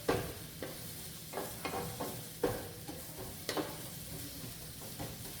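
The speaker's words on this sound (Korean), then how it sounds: "양파랑 대파 향이 전체적으로 가득 퍼질수록 좋을 것 같아요. 그때까지 볶아주시면 되겠습니다." Onion and green onion stir-fry in a pan, giving a quiet, continuous sizzle broken by soft scraping stirs at irregular intervals.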